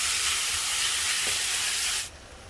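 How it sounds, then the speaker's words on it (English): Beef browns in a pan over medium-high to high heat, giving a steady loud sizzling hiss close up that stops abruptly near the end. "And just keep the pan at a constant medium high to high heat for good browning."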